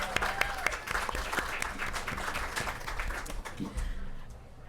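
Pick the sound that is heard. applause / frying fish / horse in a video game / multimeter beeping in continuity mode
applause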